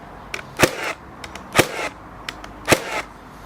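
Three sharp, loud nail-gun shots from a Ryobi 18V cordless framing nailer driving nails into LVL timber, spaced about a second apart, each a crisp snap with a short mechanical tail, no talking.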